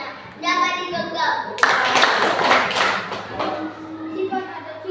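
Children clapping their hands in a classroom lesson, a sudden burst of mixed applause that breaks in over a child's sing-song chant, with young voices talking and chanting before and after.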